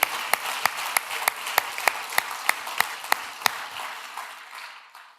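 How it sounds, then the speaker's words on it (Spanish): A church congregation applauds at a Spanish-language service, a dense wash of clapping with a dozen sharp accented claps standing out at a steady pace before the sound fades. "¿Cuántos les pueden dar un fuerte aplauso al Señor?"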